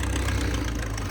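Farmtrac and Mahindra tractor engines strain during a tractor-pulling contest, a loud, steady low rumble that holds throughout without a break.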